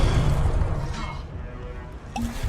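Explosive Confringo spell cast during Hogwarts Legacy combat, a loud booming burst with rumbling low end that fades over a couple of seconds, followed by a sharp crack near the end.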